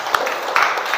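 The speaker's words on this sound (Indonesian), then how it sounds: "tepuk tangan dulu untuk kita semuanya." A classroom of children claps together for their teacher in a short burst of applause, bright and fairly close, with a sharper clap standing out at the start.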